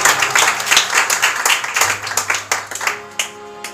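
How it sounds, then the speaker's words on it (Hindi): A church congregation claps for Jesus in a burst of loud, dense applause that gradually thins into scattered individual claps. "यीशु को देंगे जोरदार ताली बजाएंगे"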